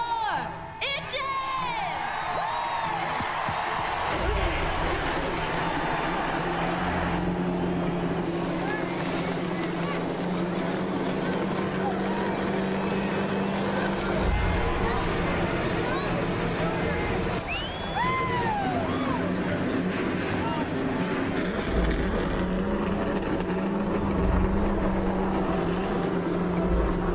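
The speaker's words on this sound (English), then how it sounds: "Gentlemen, start your engines!" Race car engines fire up at the 43rd Pepsi 400 at Daytona, a loud dense engine roar that holds steady throughout, with rising whines from individual cars over a broad rumble and crowd wash.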